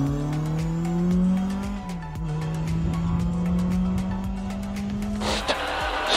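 A rally car on a stage at the Riponian Rally roars past, its engine note sweeping and shifting gears with tires scrabbling on the surface, ending in a burst of gravel spray, heard loud and close.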